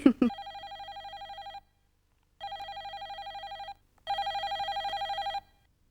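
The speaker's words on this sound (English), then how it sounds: "I can hear the magic fairy phone, Harmony." A magic fairy phone rings with electronic trilling tones in three separate bursts with silent gaps, steady and clear, after a brief voice at the very start.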